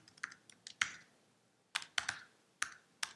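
A web address is typed on a computer keyboard, close, crisp key clicks in short irregular bursts with brief pauses, in an otherwise quiet room.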